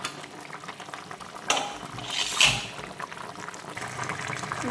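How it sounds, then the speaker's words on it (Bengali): Pabda fish curry bubbling in a pan with a soft steady simmer, broken by a couple of brief louder stirring or clattering moments, no talk. "একটু ফুটে উঠলেই নামিয়ে দেবো"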